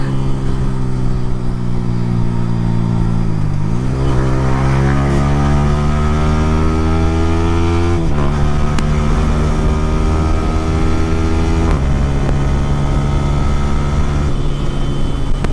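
Yamaha R15 motorcycle engine revving hard through its gears with a smooth quickshifter, pitch climbing, dropping at each shift and rising again, loud and close throughout while riding in traffic.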